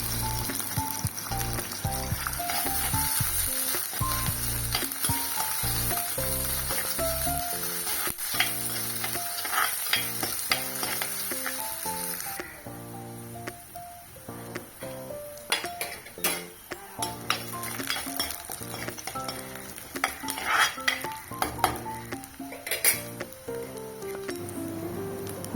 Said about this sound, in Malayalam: അത് മൂത്തതിന് ശേഷം അതിലോട്ട് നമുക്ക് സവാളയും അതുപോലെ തന്നെ കൊച്ചുള്ളിയും സ്ലൈസായിട്ട് അരിഞ്ഞത് ഇട്ട് നന്നായിട്ട് മൂപ്പിച്ചെടുക്കുക